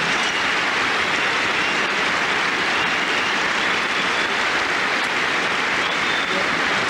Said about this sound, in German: Verdienter Beifall der rund 7000 Zuschauer